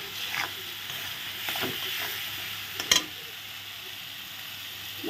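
Ground spices sizzle in hot oil in a frying pan while a spoon stirs and scrapes through them, with a soft, steady frying hiss and a sharper clink near the end, heard up close without speech.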